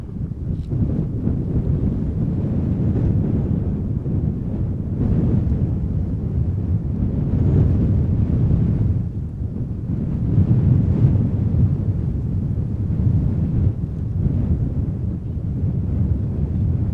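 Strong southwest crosswind gusting across Amsterdam Schiphol Airport, a steady loud roar and rumble of wind buffeting the microphone for the whole stretch, swelling and easing without pause.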